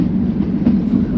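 The Shivalik Express toy train running on the narrow-gauge line from Kalka to Shimla, heard from on board as a loud, steady low rumble with faint rhythmic clatter and no voices.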